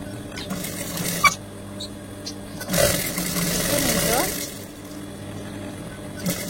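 A sewing machine runs briefly mid-clip, stitching the side seam of a child's salwar kameez, as a short close whirring burst among quieter handling noises and speech.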